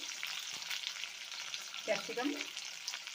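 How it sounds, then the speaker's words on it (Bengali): Sliced onions and red capsicum fry in hot oil after chicken was fried in it, giving a soft, even crackling sizzle with a brief utensil-like stir near the middle, fairly quiet and close. "এখন দিয়ে দিচ্ছি ওই তেলের মধ্যে পেঁয়াজগুলো, লাল ক্যাপসিকাম"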